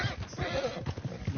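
In Red Dead Redemption 2, a horse whinnies briefly amid clopping hooves and rustling outdoor activity, close and moderately loud over a short stretch.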